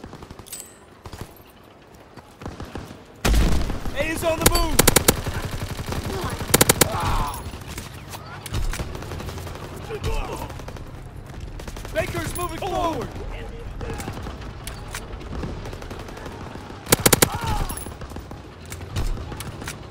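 Gunfire in the WWII shooter Call of Duty: WW2 during the Operation Griffin battle, with loud bursts of shots and explosive booms erupting in waves over a continuous battlefield din, while voices call out commands.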